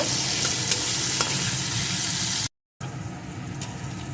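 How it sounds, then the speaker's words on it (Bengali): Potato pieces fry loudly in hot oil in a pan as they are stirred, a dense, continuous sizzle with a brief cut before it resumes. "এখন আলুগুলোকেও সুন্দর করে ভেজে নেব"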